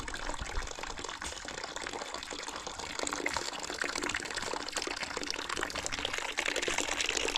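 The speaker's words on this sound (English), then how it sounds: "I pour on this." Water is poured onto a drying flower pot, a soft continuous splashing and trickling that runs steadily throughout, fairly faint and heard alone.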